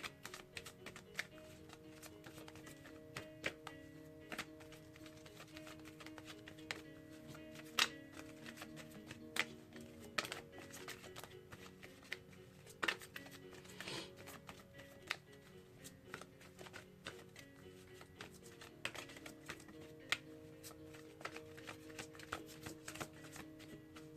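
Oracle cards from a Romance Angels deck being shuffled during a love reading, a soft, steady papery riffle and slide running throughout at low level, with light ticking clicks scattered through and no voice.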